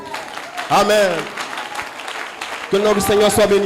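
A church congregation applauds their pastor, a steady wash of clapping running beneath a voice, swelling louder near the start and again toward the end.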